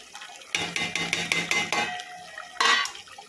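Fried chicken is stirred into a thick pepper gravy in a pan, a close series of scraping, clinking utensil strokes that pauses, then returns in one brief burst.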